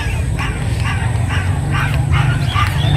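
Dogs at a busy pet market bark in a series of short repeated yaps over a constant crowd murmur, moderately loud and somewhat distant.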